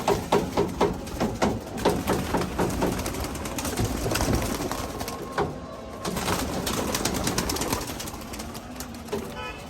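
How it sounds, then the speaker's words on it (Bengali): Pigeons released for a training flight in Bangladesh, with close cooing and bird calls over a steady outdoor background and a run of rhythmic pulses early on, and no talking. "কবুতরগুলো এগুলো এখন ট্রেনিংয়ে ছাড়তেছি, দেখি কি হয়।"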